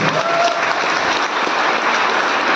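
Loud, steady applause from a seminar audience fills the room, dense clapping holding evenly throughout with no pause.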